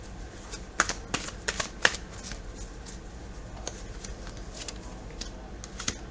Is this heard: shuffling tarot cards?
yes